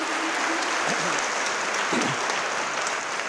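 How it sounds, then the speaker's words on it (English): Audience at a TEDx event in Attica applauds, a sustained, even wash of many hands clapping at moderate distance with no gaps, a faint voice briefly mixed in. "let's give them a great round of applause for their great leadership."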